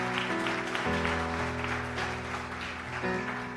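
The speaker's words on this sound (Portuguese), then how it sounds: "Você pode aplaudir Jesus?" A church congregation claps during a worship service while sustained organ or keyboard chords play over it, the applause moderate and spread across the room.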